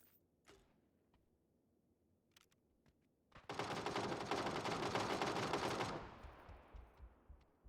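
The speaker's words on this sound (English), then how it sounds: "Shots beginning to ring out from Kryler with the ace in his hand" Rapid automatic gunfire erupts in a dense, sustained burst lasting a few seconds, preceded by a few scattered isolated shots and followed by faint settling clatter, from PUBG combat on the snowy Vikendi map.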